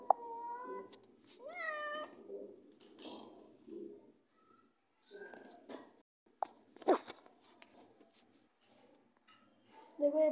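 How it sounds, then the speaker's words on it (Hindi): A cat in the Minecraft video game meows with rising, wavering cries, mixed with bird-like coos and a person talking over the game sounds. "अब ये बिल्ली भागने की कोशिश कर रही है।"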